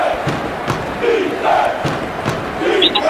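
A basketball crowd at the Toyota Center in a sports simulation game cheers loudly, with a steady roar of many voices and repeated rising surges of shouting.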